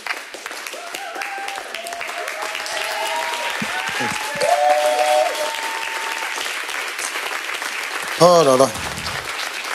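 Church congregation standing to applaud and acclaim the Lord during a prayer service, steady clapping with cheers and shouts mixed in, voices calling out over it and a louder burst near the end.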